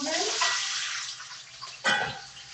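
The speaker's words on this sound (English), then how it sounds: "And I'm going to pour all my vegetables" Vegetables are poured into a hot pan in a cooking class, giving a broad hissing sizzle that fades, then a sharp fresh burst of crackle near the end.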